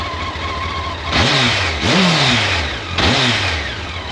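A Honda X-11 motorcycle engine idles with a fairly muted stock exhaust note, then blips the throttle three times in quick revs that rise and fall.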